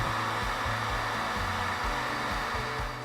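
Heat gun shrinking heat shrink tubing over butt connectors on a truck bed cargo light wiring harness, a steady blowing whoosh with a faint pulsing motor hum, loud and close, no voices.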